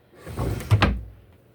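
A drawer on an old desk converted into a kitchen island slides open with a short close wooden rumble and a soft thud, heard alone.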